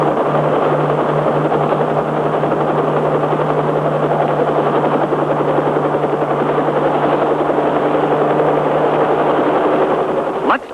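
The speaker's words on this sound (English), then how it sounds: "This tiny control stick can fly the pilotless copter in any direction." An unmanned, radio-controlled K-Max helicopter flies during a 1957 demonstration, its loud rotor chop and engine drone running continuously and steadily from start to finish, with a brief swell near the end.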